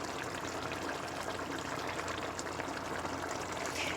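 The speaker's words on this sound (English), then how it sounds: "It can be any kind of tomato sauce as long as it's tomato sauce, okay? And you pour it in." Tomato sauce pours into a cooking pot for arroz con gandules, giving a soft, continuous liquid rush at close range with no pauses.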